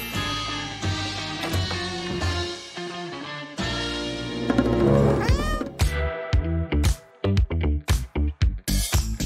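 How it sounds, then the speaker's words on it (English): A cat meows in a bathroom, giving several drawn-out, rising and falling cries over a busy, loud background of other sounds, followed by a run of sharp, separate knocks toward the end. "You're a bad kitty, Whiskers."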